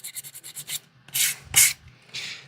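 Wood being smoothed by hand with sandpaper: a quick run of about seven short, rhythmic scratching strokes, then a pause and three longer, louder rasping passes, close and clear.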